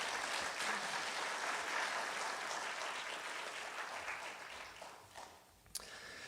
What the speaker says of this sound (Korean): 우리 환영의 박수로 목사님 맞이하겠습니다.